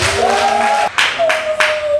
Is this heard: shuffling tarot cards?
no